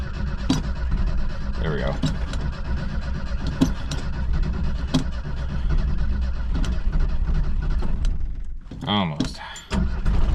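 A vehicle traded in for a Bobcat cranks over in the cold and catches, the starter grinding under short spoken remarks before the engine fires near the end.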